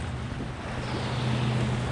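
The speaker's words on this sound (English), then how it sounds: "We got breakers in here." Waves breaking on a Florida tidal river, a steady wash of surf and water noise with some wind buffeting the microphone, fairly loud and continuous with no talking.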